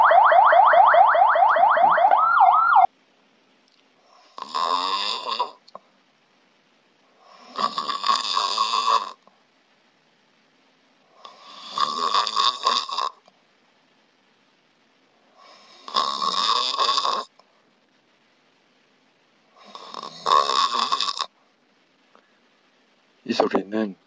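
Deep, low-pitched human snoring recorded close up, five slow rasping snores of roughly one to two seconds each, separated by long silent gaps, after a brief steady tone at the start.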